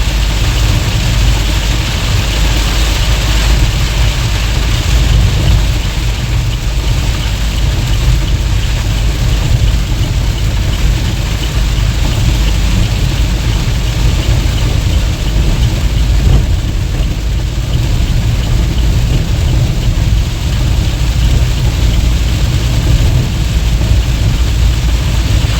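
A car pushed hard on a rainy Goa-to-Mumbai highway, its engine drone and road and rain rumble forming a loud, unbroken low roar that holds steady throughout.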